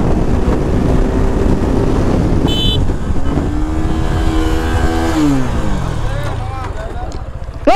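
A Suzuki Gixxer 250 motorcycle on a test ride leaving a showroom. The engine revs steadily, then its pitch climbs and sweeps up and down through throttle changes, with constant wind rush over the microphone.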